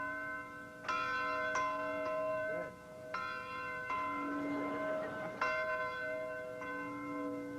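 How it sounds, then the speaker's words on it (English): A training camp bell rings out in repeated clear metallic strikes, each tone sustaining and overlapping the next, loud and close with a steady ringing rhythm and no talk over it. "That bell rings every morning at 4:30, and every fighter in those 2 bunkhouses must be down here dressed by 5, ready to run."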